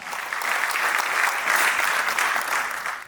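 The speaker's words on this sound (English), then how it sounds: "Huge round of applause for the main presenting sponsor." Audience applause at the TiECON Ahmedabad conference, a steady, dense round of clapping from a crowd lasting about three seconds, moderately distant and even, fading slightly at the end.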